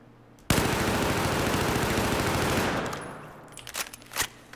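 An ACWR rifle in Battlefield 4 fires a sustained automatic burst for about two seconds, loud and rapid, followed by a few trailing clicks and mechanical handling sounds.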